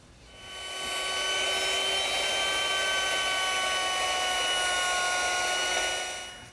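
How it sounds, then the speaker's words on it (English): A router fitted with a 3/8 inch radius beading bit shapes the outside edge of a wooden standing mirror frame, its high motor whine ramping up, holding a loud, steady scream with cutting noise, then winding down. "I've changed my bit to a 3/8 inch radius beading bit"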